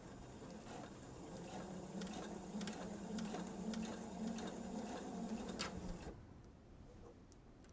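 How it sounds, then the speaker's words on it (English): Sewing machine stitching a last stretch of fabric at a quarter-inch seam: a steady, close mechanical whir for about six seconds that then stops abruptly, leaving quiet room noise. "let's see if we can get this last little bit of the fabric stitched at 1/4 of an inch"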